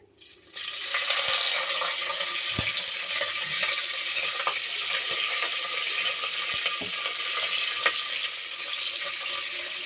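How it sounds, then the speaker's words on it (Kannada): Curry leaves sizzle and crackle steadily in hot oil in a pan, a dense, continuous frying hiss with scattered pops, close and fairly loud throughout. "ಇಲ್ಲಿ ಎಣ್ಣೆ ಕಾದಿದೆ, ಕರಿಬೇವು ಹಾಕ್ತಾಯಿದ್ದೀವಿ."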